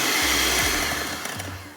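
Electric mixer beating date cake batter as sunflower oil goes in, a steady close whirring drone with small pitch dips as the beaters move through the mix, no voices.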